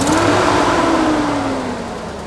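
A diesel car in a mud-racing setting revs hard during an attempted burnout, its engine rising in a loud close whine then easing slightly over a couple of seconds, with no voices.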